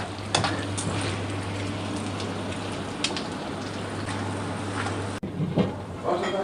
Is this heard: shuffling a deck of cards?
no